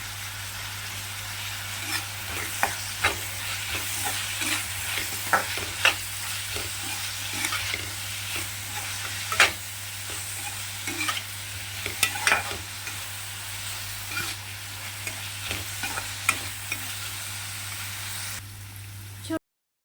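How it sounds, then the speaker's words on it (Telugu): Sliced onions with a pinch of turmeric frying in a pan, a steady broadband sizzle with frequent sharp scraping clicks from stirring throughout, close and fairly loud, then cutting off abruptly near the end. "ఉల్లిపాయలు బాగా ఫ్రై అయ్యాయి"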